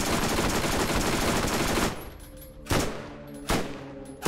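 Wildcat shotgun firing in Borderlands, a dense roar of continuous gunfire for about two seconds, then two sharp separate blasts with quieter game noise between, moderately loud.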